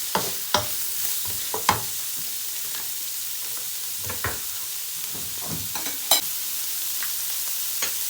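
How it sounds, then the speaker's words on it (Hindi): Beans and deseeded green chilli are stir-fried for egg fried rice over a steady background sizzle, with repeated sharp scrapes and knocks of a spatula in the pan at uneven intervals, close by. "बीन्स, ग्रीन चिल्ली, बीज निकले हुए, मिक्स करेंगे इसको।"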